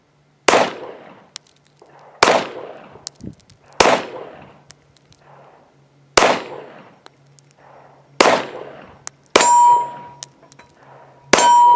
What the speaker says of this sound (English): first shots with the Tanfoglio Witness Elite Limited in